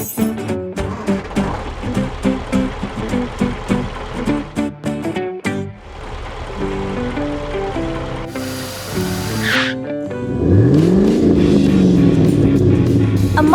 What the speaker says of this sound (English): A modified car speeds in.